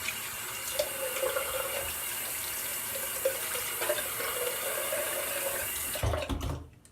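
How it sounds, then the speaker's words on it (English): Tap water runs steadily into a sink while a razor is rinsed between shaving passes, a continuous close splashing stream that cuts off abruptly at the end. "I'll rinse off and lather up for number 2."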